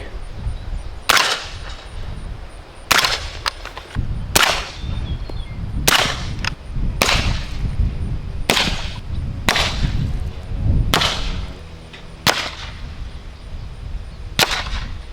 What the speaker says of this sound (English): There we have it on the sealed cap on the Banka 30 cal with subs.